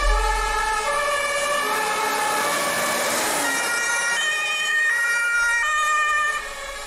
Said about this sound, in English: same kind of pattern of noise, but different tone, different pitch to the sirens